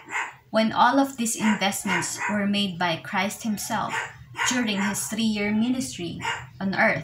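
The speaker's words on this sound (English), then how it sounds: "I'm sorry for my dogs." Dogs bark repeatedly in the background under a man's steady lecture speech, the barks blending into his voice throughout.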